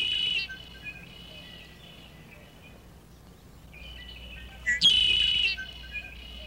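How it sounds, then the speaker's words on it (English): A red-winged blackbird in a grassland pond habitat gives clear, high repeated calls, a few bursts with a louder trilling call near the end, fairly close against a quiet background. "Mr. Redwing Blackbird is here, and he calls out, Ookalee! Ookalee!"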